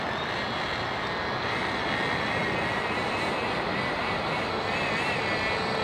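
A nitro-powered RC car engine, a Thunder Tiger Nitro, holds a steady high-pitched buzzing whine throughout at moderate distance.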